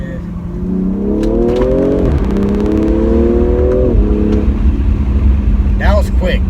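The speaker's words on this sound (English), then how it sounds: "let me show you guys how this thing sounds" A 2020 BMW M340i revving hard inside a tunnel, engine pitch climbing through two strong pulls with a shift between them, loud and echoing, and a driver talks over it.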